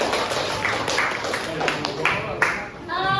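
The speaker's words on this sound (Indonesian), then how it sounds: "tepuk tangan buat kalian semua" Classroom students clap together after group work, a steady patter of hands under a busy room, with voices mixed in and a few louder claps standing out.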